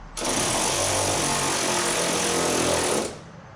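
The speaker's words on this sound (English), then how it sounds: "This is a slow ratcheting." A ratchet wrench turning suspension lock nuts while a Wisefab kit goes onto a Toyota JZX100/JZX90 or Lexus IS300 chassis, giving a loud, dense, buzzing rattle that holds steady for about three seconds and then stops cleanly.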